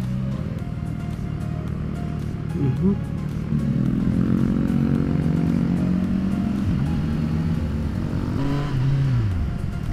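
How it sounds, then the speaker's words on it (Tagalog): Road traffic in a congested street, heard from a motorcycle: steady engine rumble and idling vehicles throughout, with a rising engine rev near the end and a voice talking over it. "Bakit naman traffic dito?"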